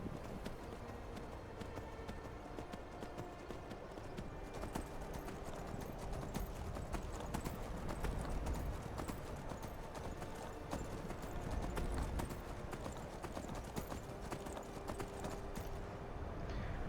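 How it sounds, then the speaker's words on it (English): Horse hooves clip-clop steadily through Skyrim VR's city of Solitude, a continuous rhythmic trot under a busy ambient game soundscape, with faint whinnies and no clear talk. "Maybe that was Lucian's horse."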